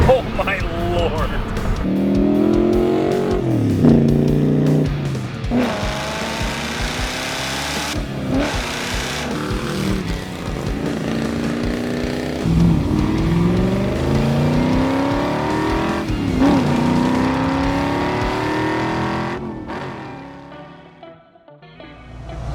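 A 1973 Ford Mustang Mach 1 drives off and accelerates, its engine revving up through repeated rising pulls with gear changes, loud and close, with someone talking over it before it fades near the end.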